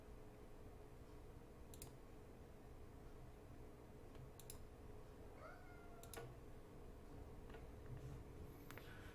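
A cat meows a few times over a steady indoor background hum, the calls faint to moderate and spaced apart, with occasional light clicks.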